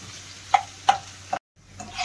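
Cumin, ginger and garlic fry in oil for dal khichdi, a soft sizzle under three sharp spoon taps against the pan, followed by a brief moment of silence before the sizzle returns.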